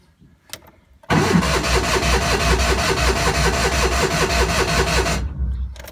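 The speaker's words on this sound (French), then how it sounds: "On met le contact et voilà, donc je vais pouvoir mettre un petit coup de starter." A cold car engine cranks on the starter, a loud, steady, rhythmic churning that runs for about four seconds and then stops abruptly.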